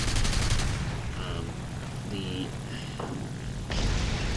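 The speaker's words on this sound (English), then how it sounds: "with 20mm cannons of short burst, you'll often damage the rudder and the elevator controls" Gunfire from an FW 190 A-5 aircraft's 20mm cannons in a flight combat video game, a rattling burst at the start and another near the end, with engine drone and brief radio-like chirps between.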